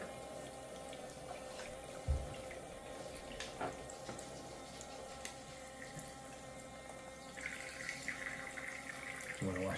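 Quiet, steady trickle of water from a toy kitchen sink's small electric tap, running continuously with a faint pump hum and a few light knocks, heard faintly at a distance.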